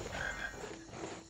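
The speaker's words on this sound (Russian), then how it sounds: "Лягушка!" Frog croaking in a Harry Potter video game, a faint, brief croak over a soft ambient background.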